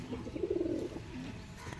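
A restless Andhra pigeon held in the hand lets out a low, throaty coo, a brief rolling burst up close followed by a quieter second murmur and a slight flutter.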